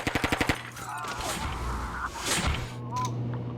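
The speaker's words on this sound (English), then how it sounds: "Chavez, somebody shot your mate." Rapid burst of automatic gunfire in the Rainbow Six Black Ops mod for the video game, about six sharp shots in quick succession at the start, followed by game ambience and a few softer impacts.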